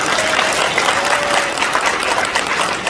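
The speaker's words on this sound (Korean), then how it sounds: "여러분 수상자 모든 분들께 힘찬 박수 부탁드립니다." Dense, continuous applause from a crowd at a traditional culture awards ceremony fills the whole stretch at an even level, with no voices standing out.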